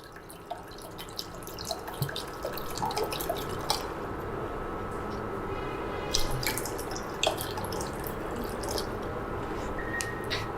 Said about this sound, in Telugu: గిన్నె పెట్టుకుందాం, కొంచెం వాటర్ వేసుకుందాం